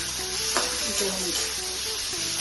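Prawns fry in oil with turmeric and salt for a Bengali prawn curry, a constant close sizzle punctuated by a few scrapes and clinks of stirring.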